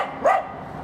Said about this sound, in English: and the yapping dog